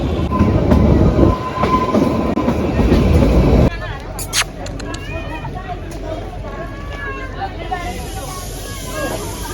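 A train halting at a station, loud rumbling and clattering that drops to a quieter idle with brake squeals and a brief hiss, with crowd chatter and a voice talking throughout.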